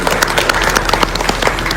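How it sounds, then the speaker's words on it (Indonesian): An audience at a political gathering claps loudly in a dense, even patter of many hands, close and continuous throughout. "Boleh tepuk tangan buat teman-teman sekalian"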